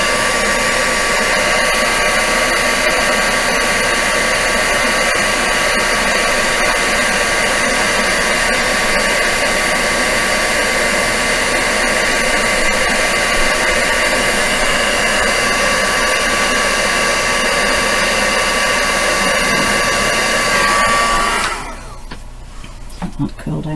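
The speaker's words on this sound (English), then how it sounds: "Notice I start my dryer before I come off and just let it warm up just a touch." A loud, steady heat embossing dryer blows continuously for a long stretch, then shuts off abruptly near the end, leaving a quieter background.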